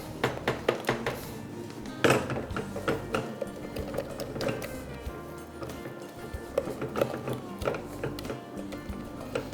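Mashed potatoes seasoned with salt and black pepper are mixed briskly, with repeated clacking knocks of a utensil against the bowl in an uneven rhythm. The sound is close and moderately loud, and a faint voice is heard now and then.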